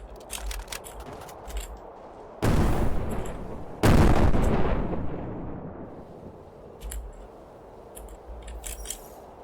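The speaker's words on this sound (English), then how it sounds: "These guns aren't accurate enough to shoot these." Guns firing in the video game Doll's Nest: two loud, sharp blasts a second or so apart, each with a long decaying roar, set among quieter clicks and mechanical ticks before and after.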